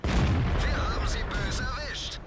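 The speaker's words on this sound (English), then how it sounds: "now the Kpfw1 fires and I can take another shot" A tank cannon fires in a World War II tank video game with a Pz. Kpfw. IV Ausf. H in the fight, one loud deep boom that rolls into a long rumbling tail, with faint chirpy battle sounds over it.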